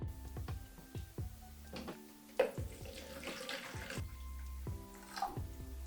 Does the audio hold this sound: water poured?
yes